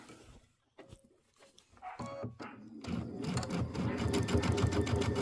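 Sewing machine stitching a Christmas quilt wall hanging, a few brief starts and then a steady, loud, rapid mechanical run of stitches near the microphone.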